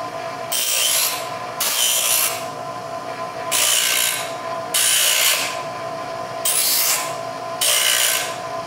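Burrs being ground off the edge of feeler gauge steel stock. Six rough, rasping passes of about a second each repeat at a steady rhythm, close and fairly loud, with brief pauses between them and no voices.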